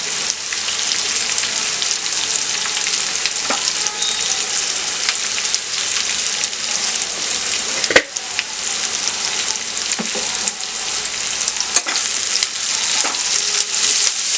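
Sliced onions frying with turmeric in oil for a sweet pumpkin curry, a loud continuous close sizzle with occasional stirring clicks and scrapes throughout, no voices.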